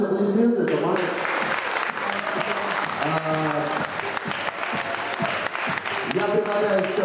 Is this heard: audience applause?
yes